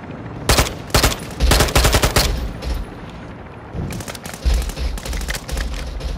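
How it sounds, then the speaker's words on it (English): Bursts of automatic gunfire from enemy soldiers in a helicopter combat video game, loud rapid volleys in several clusters with short pauses between them. "they're still trying to shoot us"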